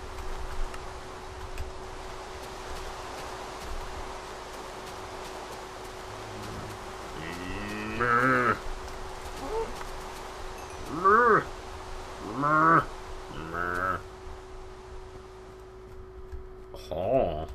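Cows mooing in a blocky sandbox video game, several drawn-out lowing calls in quick succession over a steady ticking background hum, moderately loud and close.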